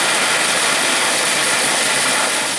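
A food mixer crushes 200 grams of ginger biscuits, making a loud, steady grinding roar that runs unbroken from start to finish with no voices.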